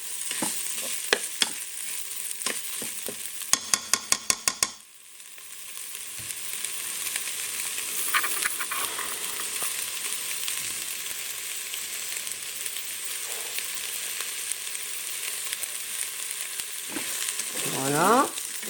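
Rice fries in a pan for Mexican-style rice, starting with several sharp clicks of a utensil against the pan, then a steady sizzle with occasional scraping stirs, close and fairly quiet, with no talking.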